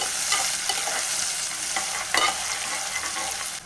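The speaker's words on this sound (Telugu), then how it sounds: "ఇప్పుడు ఆనియన్ కలర్ వచ్చేంత వరకు అయితే మంచిగా ఫ్రై చేసుకోవాలి" Onions and green chillies fry in a pan, a close, steady sizzle broken by the scrape and clatter of a spoon stirring, with a few sharper strokes.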